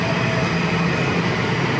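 A Washington Metro Blue Line subway train approaching Pentagon City station, a steady loud rumble and rail hiss filling the whole stretch without pause, with no voices over it.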